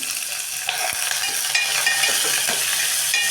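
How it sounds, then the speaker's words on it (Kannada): Green chillies frying in a pan for rasam, a steady bright sizzle with a few soft stirring scrapes and clicks, close and continuous throughout. "ಹಾಕಿಬಿಟ್ಟು ಸ್ವಲ್ಪ ಫ್ರೈ ಮಾಡ್ಕೊಳ್ಳೋಣ"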